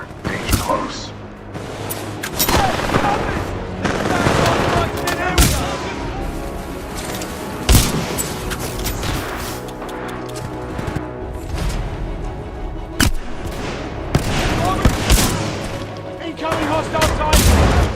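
Supporting gunfire in the video game Titanfall 2 rolls on loudly and continuously, with dense rapid shots, heavy booms and mechanical clatter, while a voice speaks over the battle.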